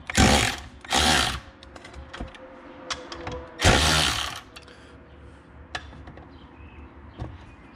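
A power tool removes bolts from the clutch of a Polaris RZR Turbo, whirring in three short, loud bursts with quieter clicks and handling noises between them.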